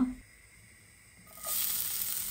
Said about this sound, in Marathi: कांदो मातसो फ्राय करप.